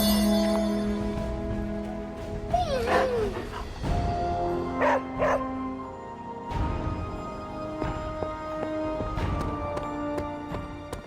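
Charlie, a dog in the video game Marvel's Midnight Suns, barks several times in short bursts with a few whimpering yips between them, set against soft game music.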